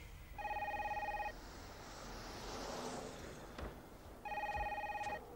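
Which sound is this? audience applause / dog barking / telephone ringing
telephone ringing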